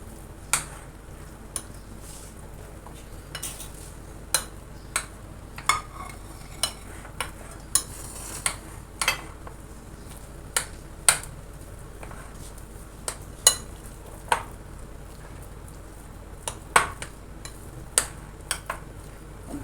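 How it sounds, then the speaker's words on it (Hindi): Spices being hand-mixed into chicken mince in a bowl for seekh kebabs, heard as a steady run of small clicks and scraping knocks, spaced unevenly and fairly close, with no talking. "अब मैं इन सब मसालों को कीमे में मिक्स करूँगी"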